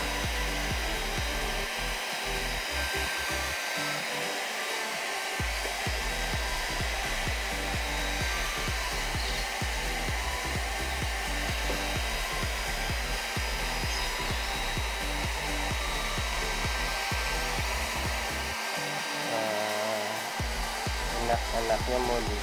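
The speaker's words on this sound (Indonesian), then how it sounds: "Ini berhubung pakai hair dryer" A hair dryer runs steadily and close by, heating the headlight housing of a Yamaha NMAX scooter to soften the sealant and open it, with a continuous loud whirring hum and no talking.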